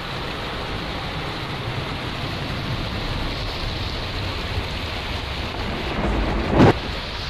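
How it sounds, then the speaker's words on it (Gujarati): A heavy downpour during a thunderstorm in the Rajula, Dhari and Bagasara area of Amreli, Gujarat pours as a steady, dense roar, with a short sharp crack of thunder near the end. "ધોધમાર વરસાદના દ્રશ્યો આપણે બતાવી રહ્યા છે"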